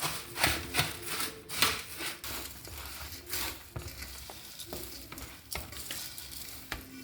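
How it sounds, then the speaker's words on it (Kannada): Churumuri, a puffed rice snack with tomato and coriander leaves, is mixed briskly by hand. Close, rustling, crackly tossing comes in uneven bursts, fairly soft, with no talking. "ಈಗ ಎಲ್ಲ ಇದನ್ನು ಬೇಗ ಬೇಗ ಮಿಕ್ಸ್ ಮಾಡ್ಕೊಳ್ಳೋಣ"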